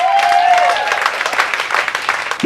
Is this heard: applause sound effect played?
yes